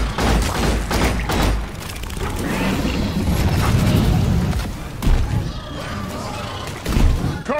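Weapons fire during a solo Deep Dive in Deep Rock Galactic: dense, continuous bursts of gunfire and booming impacts crash on top of one another, loud and chaotic throughout, with mechanical clanks mixed in.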